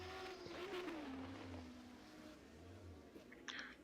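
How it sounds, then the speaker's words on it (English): A historic race car in qualifying at a circuit passes the camera, its engine note dropping on a downshift; fairly faint and distant, with a steady background roar. "The car passed the camera right on the downshift."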